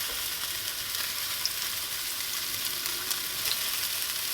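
Broken-up onion fries in oil in a pan with a steady, even sizzle and no voices.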